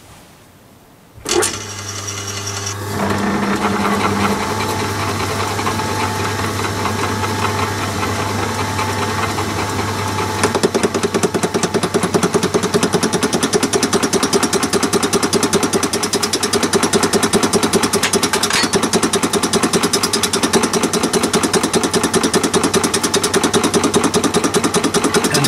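A Myford lathe spindle starts up and runs steadily at about 300 rpm, a loud continuous mechanical hum with a constant motor tone and a faint rhythmic ticking, no talk over it.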